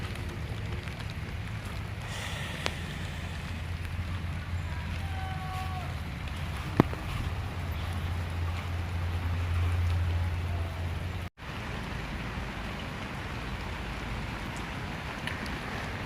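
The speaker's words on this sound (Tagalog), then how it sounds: "Grabe, lumalakas na yung ulan." Heavy rain pours down steadily while someone shelters under cover, a dense continuous hiss that holds level with a low rumbling undertone, broken by a brief dropout near the end.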